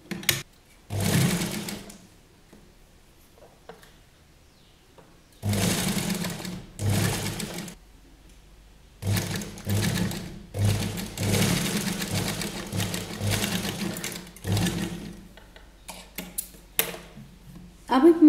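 A sewing machine stitches potli buttons onto a kurti in several bursts of rapid mechanical whirring, separated by quiet pauses, close and fairly loud.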